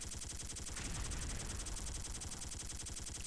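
Rapid gunfire from a skinned gun in the XSHOT video game, a continuous loud stream of closely spaced shots rattling at an even rate with no pauses or voices.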